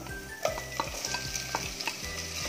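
Onion and tomato are stirred in a hot pan, a spoon scraping and clicking against the metal every half second or so over a soft, steady sizzle, quiet and close.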